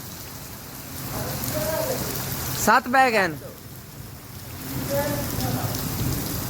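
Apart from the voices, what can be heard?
very heavy rain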